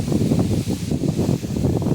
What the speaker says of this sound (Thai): ได้ยินแต่เสียงลมบ่จักเนาะ